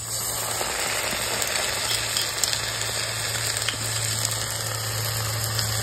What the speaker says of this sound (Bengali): পেঁয়াজ আমার লাল লাল ভাজা হয়ে গেছে। এবারে এখানে আমি আদা রসুনের পেস্ট দিয়ে দেবো।